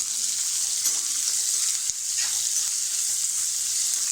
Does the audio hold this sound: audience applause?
no